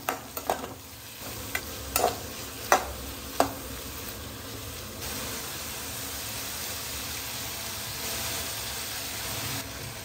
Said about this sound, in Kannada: ಇಲ್ಲಿ ನಾವು ತೆಂಗಿನೆಣ್ಣೆ ಯೂಸ್ ಮಾಡ್ತಿದ್ದೀವಿ ಫ್ರೈ ಮಾಡಲಿಕ್ಕೆ